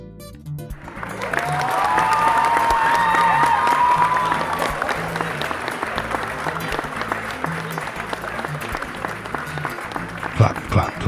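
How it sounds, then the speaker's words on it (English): Crowd applause swells into sustained dense clapping with some cheering, then thins out toward the end, with a voice faintly heard over it. "Clap, clap, clap."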